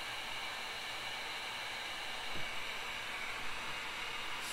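A heat gun shrinks heat-shrink tubing onto a fishing hook, giving a steady, faint airy hiss that holds evenly throughout, with a small knock partway through.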